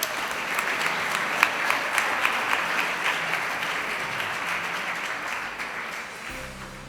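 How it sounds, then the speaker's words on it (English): A graduation ceremony audience gives a round of applause in a hall, with steady, moderately loud clapping that holds for several seconds and then starts to fade. "Let's give them a round of applause."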